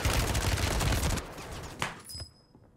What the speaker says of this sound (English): He's going to get shot in the back.